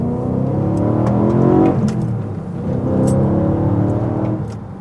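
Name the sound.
car driving on Ohlins Road & Track coilovers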